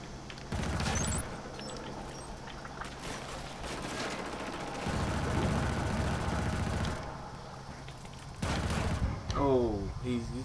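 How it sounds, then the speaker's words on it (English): Rapid bursts of pistol fire from the Killzone Shadow Fall video game crackle in short volleys at moderate loudness, with a sharp electronic sweep near the end and game sound effects filling the background. "He's just using his pistol."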